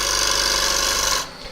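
A gouge cuts end grain on a monkey puzzle wood bowl, giving a steady, loud continuous rasping scrape that holds for over a second before suddenly stopping.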